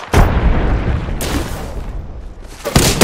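A frag grenade goes off in Apex Legends, a loud booming blast that rumbles across the moment, followed by a second burst of explosive noise near the end.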